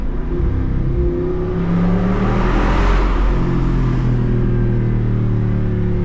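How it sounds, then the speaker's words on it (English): A Jeep Wrangler Rubicon 392 V8 rumbles deeply, swelling and revving under throttle on a downshift, throbbing exhaust roar rising and easing, loud and close throughout. "Give you guys a nice example of what the exhaust sounds like."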